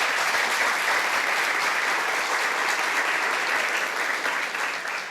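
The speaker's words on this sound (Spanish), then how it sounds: "Un aplauso para Mario." Audience applause for Mario at an organization's anniversary celebration, a dense, even wash of many hands clapping, loud and steady, fading slightly at the end.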